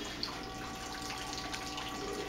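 Liquid flowing steadily through a fully opened valve on brew day for a Tripel beer, a soft continuous rushing and trickling heard alone at low level.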